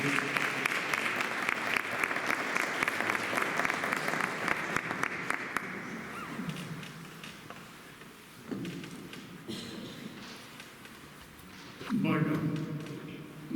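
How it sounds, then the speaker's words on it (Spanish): Audience applause following a testimony at a fraternal gathering in Ronda, loud and sustained for about five seconds, then fading into quieter room noise with scattered thumps and brief bursts of movement. "Vamos a dar un fuerte aplauso al testimonio de"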